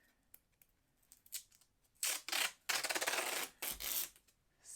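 Masking tape torn from the roll and pressed around a joint between wooden pieces: a few faint ticks, then loud ripping strips of tape close by, with no voice.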